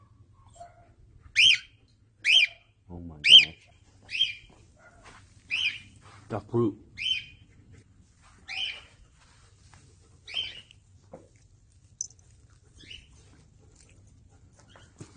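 A pet bird screams in a series of about eight shrill, piercing calls spaced a second or two apart, fairly close. A person speaks briefly between the calls.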